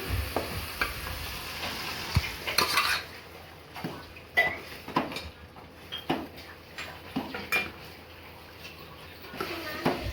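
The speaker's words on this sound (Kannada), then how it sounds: "ಈಗ ಚಿಕನ್ ಹಾಕೋತಾ ಇದ್ದೀನಿ" Chicken and capsicum sizzle in a pan while a utensil scrapes and stirs in irregular bursts, close up, with soft clatter of cookware.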